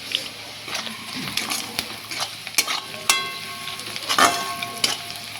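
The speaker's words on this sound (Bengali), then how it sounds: "এটা বেশ ভালো করে ভাজা করবো।" Crab pieces frying with salt in a pan, a bright steady sizzle broken by repeated scraping clatters of stirring, close up with no talk.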